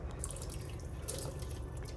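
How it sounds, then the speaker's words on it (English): Water poured steadily into a cooking pot for a one-pot sausage, green bean and potato meal, a continuous close splashing and trickling stream with no voices. "So added that water to the pan, to the pot rather."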